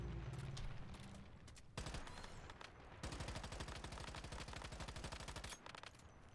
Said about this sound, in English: you shoot the boss